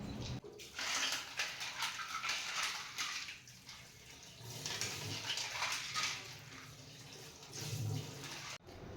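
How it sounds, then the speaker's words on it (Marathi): Clams are rinsed in water several times for a spicy shell curry, giving close splashing, sloshing and swishing water in a vessel in bursts over several seconds, with faint clinks of shells and no talk. "हे तिसरे आहेत ते 3-4 वेळा पाण्यामध्ये स्वच्छ धुवून घेणार आहे"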